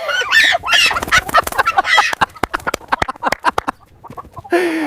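Chickens cluck and squawk in a village yard, a burst of agitated bird calls followed by sharp, irregular clucks close by, then a loud flurry again at the end.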